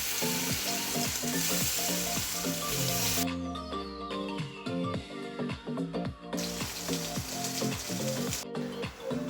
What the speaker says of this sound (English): Now on a medium flame, let's fry the paneer until the paneer is well done.